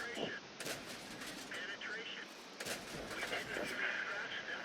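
Tank cannon shots from an AMX 13 57 in the World of Tanks video game, heard as sharp broadband bursts, two clear blasts about two seconds apart over continuous battle noise, with a voice speaking over them.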